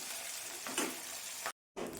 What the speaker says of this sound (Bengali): প্রথমে আমি মাছগুলো ভেজে নেব। এখানে আমি কাতলা মাছের পেটি নিয়েছি